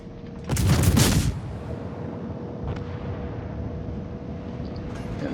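A warship's guns fire in a naval video game: one heavy, close blast rolls out as a deep boom over about a second. Then a quieter battle rumble continues, with a faint distant thud later.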